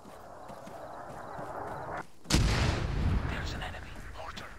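A single heavy mortar blast booms loudly in the military shooter Arma 3, its rumbling tail rolling on for a couple of seconds after a brief lull, over steady battlefield ambience.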